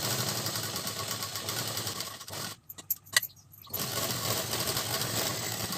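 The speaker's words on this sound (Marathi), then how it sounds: "आतल्या साईडला शिलाई मारून घ्यायची।" A sewing machine stitches the inner side of a blouse neck where canvas is glued in. It makes a continuous close mechanical whir that cuts out abruptly for about a second, with a few clicks in the gap, then starts again.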